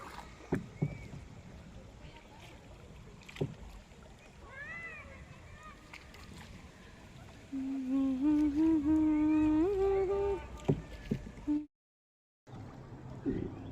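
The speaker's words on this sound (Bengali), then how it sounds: "মা নৌকা চালাচ্ছে, তাই না?" A rowing boat moves on the Dawki river near the Bangladesh border, with a steady wash of water and paddling. A droning tone rises and steps up midway through, with brief knocks and voices in the background.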